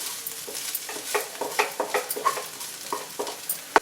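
Drumstick flower stir fry, moringa flower thoran, is stirred in a hot pan, giving a steady soft sizzle broken by repeated scraping strokes of the spoon and a sharp clink near the end, close and clear.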